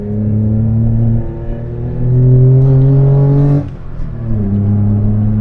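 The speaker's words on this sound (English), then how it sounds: "Whoa, popping exhaust and everything." The 989cc engine of a Daihatsu Handivan L700 revs hard with a rising harmonic whine, then sharp crackling pops from the exhaust as the revs drop and climb again.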